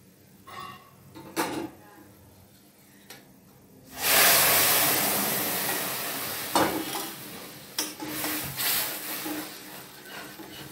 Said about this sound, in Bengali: আমি এবারে একটু দুধ দিয়ে দেব।